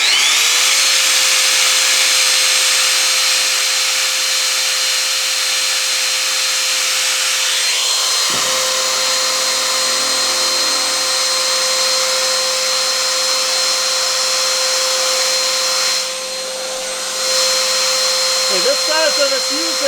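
A small trim router running with no load on power from an old gas generator gives a loud, continuous high motor whine that shifts and steadies partway through, with a faint rattle near the end.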